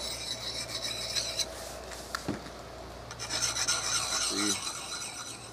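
A file rasps across metal to clear burrs from a 1980s Rambo-style survival knife, giving steady scraping strokes with brief pauses, close and fairly loud, with no talking.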